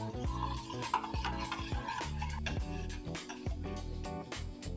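Rice flour being stirred into a porridge in a pot for homemade kimchi, steady scraping and clinking of a utensil against the pot over a constant low background tone.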